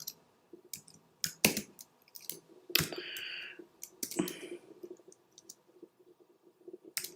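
Quiet, close keystrokes tap out an email address on a computer keyboard, irregular clicks in small clusters with a few louder presses and short pauses between them.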